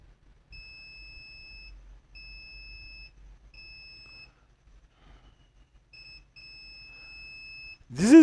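A multimeter gives steady continuity-test beeps while probing a TV controller chip's pins to ground, one long tone then several shorter ones with brief gaps, clear and close in a quiet room, ending with a sudden louder sweep.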